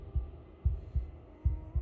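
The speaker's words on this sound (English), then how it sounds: "a wooden and fleshy heart beating with an unbroken rhythm" Heartbeat of a wooden and fleshy heart in the horror game Slay the Princess, a low, deep thump repeating in a steady rhythm, five beats alone with a faint hum underneath.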